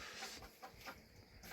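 A rooster gives short, soft clucks in a few quiet bursts at a village home, faint and fairly close against low background noise, with no talk.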